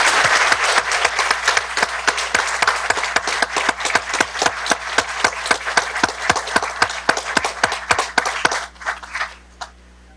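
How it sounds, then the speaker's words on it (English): Steady applause fills a school board meeting, with loud, crisp claps in an uneven rhythm that carry on for about nine seconds and then stop abruptly, leaving near silence. "Let's give them a round of applause"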